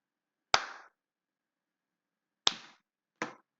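Three crisp, loud hand claps in a quiet room, used to test a sound sensor in a Scratch for Arduino (S4A) setup: one clap, a long pause, then two more close together.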